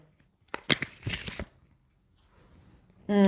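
A quick burst of tarot cards being shuffled, a rapid riffle lasting under a second, followed by quiet and then a voice starting.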